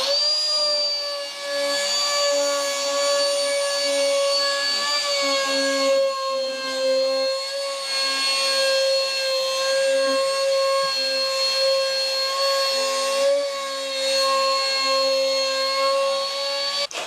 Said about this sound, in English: I want to do a quick round over on the edges, something like this sort of profile, just a simple round over. And to do that, I've got to use my small router.